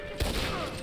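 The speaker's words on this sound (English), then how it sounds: "Right, who's shooting me?" Gunfire in the online western game Red Dead Online, a short burst of shots with a sharp low thump, heard close over game ambience.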